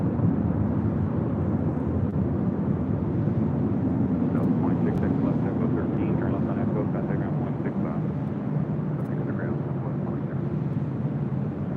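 A Lufthansa Boeing 747 jet departs LAX with a steady, heavy broadband roar of engines that holds level throughout, constant and close, with no distinct talk.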